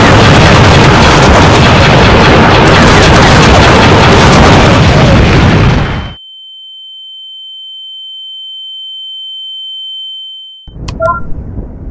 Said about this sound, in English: Commence bombardment.